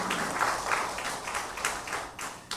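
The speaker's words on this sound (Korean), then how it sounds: "우리 신동호 회장님 좋은 일 축하드리면서 박수 한번 보내주시기 바랍니다" A church congregation applauds during a Sunday service, a brief, faint burst of scattered clapping that swells and fades.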